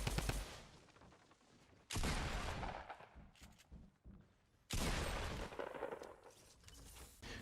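Gunfire in Fortnite crackles in loud bursts, with a long volley opening, a quieter patter of scattered shots in the middle, then another heavy sustained barrage near the end.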